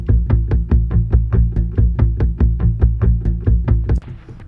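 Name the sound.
AI-generated Hummer bass sample, timed to fit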